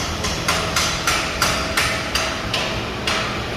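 Sharp metallic knocks repeat at a steady pace, about ten hand strikes on a hard panel of a Nissan GTR checked for loose parts, close and fairly loud with no talking.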